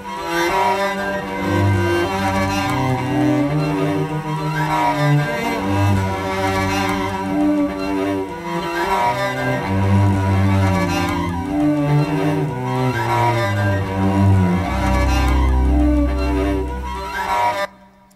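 A piece played on cello, a sustained melodic line with layered bowed tones rising and falling in phrases, full and steady throughout before a deep low swell near the end and an abrupt stop.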